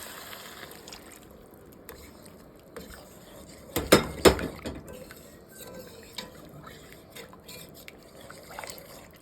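Broth poured into a hot cooking pan while making Bicol Express: a brief splashing pour with clattering pan and utensil knocks around the middle, then quieter scraping and trickling.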